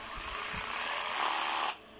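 A cordless reciprocating saw runs with speed control, a close, high buzzing whine that rises in pitch and intensity before cutting off abruptly near the end.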